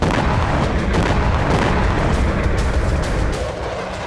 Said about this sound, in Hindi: खार्किव के वोल्चांस्क में भी रूस ने इसी महाबम से हमले किए।